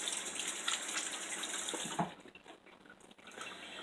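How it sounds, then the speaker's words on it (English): Hands rinsed under a running kitchen tap while preparing a cheeseburger meatloaf: a steady, close water hiss for about two seconds that thins into softer, uneven splashing and trickling. "Let me rinse my hands."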